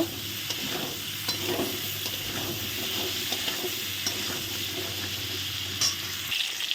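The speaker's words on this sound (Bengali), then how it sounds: "দেখো ফুলকপি আলু পটল এই যে সুন্দর লাল লাল করে ভাজা হচ্ছে" Cauliflower, potato and pointed gourd frying in a pan, a steady close sizzle broken by the scrape and clatter of stirring at irregular moments.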